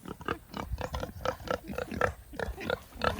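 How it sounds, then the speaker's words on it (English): Pigs on a farm grunt repeatedly in a steady, overlapping rhythm of short snorting oinks, close and moderately loud, with no talk. "So that's pretty much it for the pigs."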